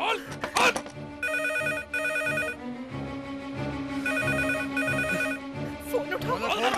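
An electronic phone ringer trills in repeated bursts of two, over agitated shouting and banging nearby.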